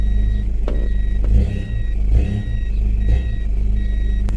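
A Toyota Prado engine idles and is gently revved in reverse with the handbrake on, a loud low steady rumble rising in a few brief surges, with a reversing beep chiming repeatedly on top.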